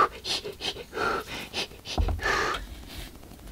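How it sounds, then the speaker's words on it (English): A woman does Lamaze-style breathing, with rhythmic, quick, close panting breaths and short huffs in a quiet room. "I'm doing Lamaze breathing."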